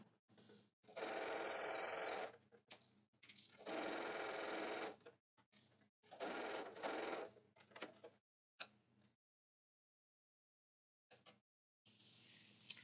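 Sewing machine stitching the hem of an apron, running in three long steady bursts with brief pauses between, then a few short stops and starts near the end, close and fairly quiet.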